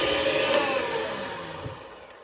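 An electric mixer works through chocolate chip cookie batter, a steady close whirring hum that slowly fades slightly, alone without speech.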